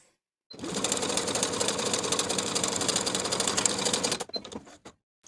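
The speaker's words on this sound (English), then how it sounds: "We're going to gather the bottom piece from one top side edge straight across to the other with the longest stitch on your machine." A sewing machine runs a long gathering stitch across a fabric edge, a close, rapid mechanical chatter holding an even rhythm for about four seconds before a few slower trailing stitches and a stop.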